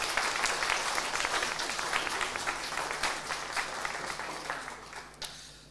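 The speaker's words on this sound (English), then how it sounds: "biggest round of applause" Applause at a learning disabilities and autism leaders' awards ceremony, honouring a winner who is absent: a steady, dense wash of clapping from a large audience that fades gradually toward the end.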